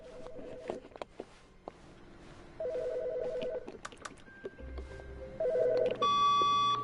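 An in-game office telephone in The Stanley Parable rings, with electronic tones and beeps building to a loud, steady ringing near the end.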